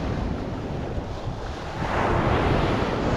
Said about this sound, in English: Maybe one of these times the waves will wash up a nice shell.